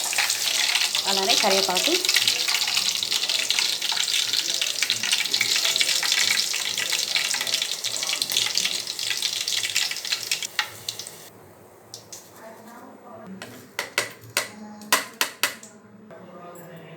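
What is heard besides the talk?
green chillies frying in oil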